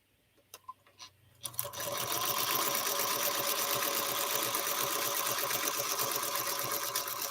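A few soft clicks and taps, then a sewing machine starts and runs continuously at a fast, even stitching rhythm while piecing a liberty box quilt, close and steady with no talk.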